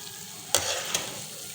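Sweet gulgule fritters frying in oil over a medium-high flame: a soft, steady bubbling sizzle, broken by a sudden loud splashy burst and a smaller second surge shortly after, all close by without speech.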